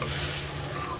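Capsicum curry sizzles and is stirred in a pan, a close, steady frying hiss with soft scraping throughout and a sharp clink of the utensil at the very end.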